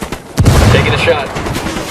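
A single loud rifle shot fired close by in Ghost Recon Wildlands, with its booming report rolling out over the following second.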